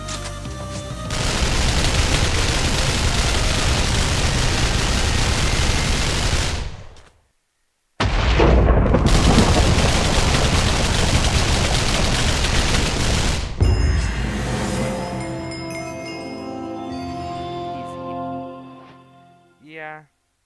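Gunfire in the Minecraft Changed Grand Revival mod: a loud, dense wall of rapid shots that cuts out briefly, resumes, then gives way to ringing tonal game sounds and fades near the end.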